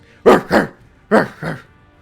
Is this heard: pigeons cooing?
no